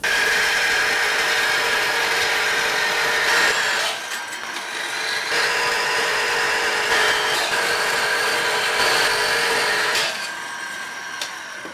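A milling machine cuts tabs from 6 mm cold rolled steel plate with a loud, continuous grinding whine and a brief dip midway, close and steady, with no talking.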